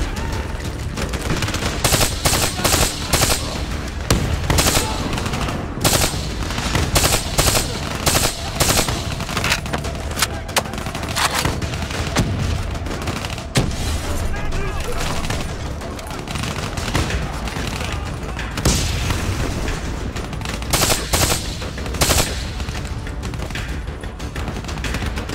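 Sustained machine gun fire in the Call of Duty Black Ops 3 campaign mission New World. Dense, loud automatic bursts rattle almost without pause, layered with other weapons firing and occasional booms.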